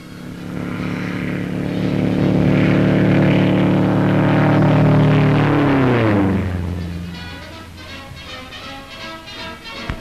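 Malcolm Campbell's Bluebird land speed record car races along a beach, its engine roaring in a long rising then falling drone as it approaches and passes close by, fading into a lower rumble.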